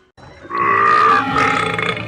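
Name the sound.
cartoon female character burping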